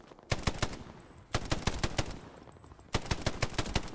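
Three loud bursts of rapid gunfire in Hell Let Loose, each a quick string of sharp shots separated by brief pauses.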